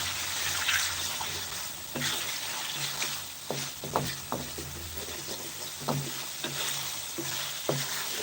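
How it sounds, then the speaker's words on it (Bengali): Stinging catfish sizzles gently in a pan while a utensil stirs and scrapes at intervals, soft clinks and taps over a steady low frying hiss. "মাছটা আমি কিছুক্ষণ নেড়ে দেখছি ভাজার মতো করে নিব"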